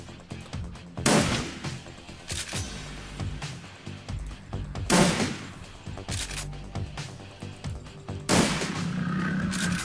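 Shotgun fire in the video game Shadowrun Returns comes as loud blasts repeated at intervals, each with a sharp crack and a booming tail, over a background game score.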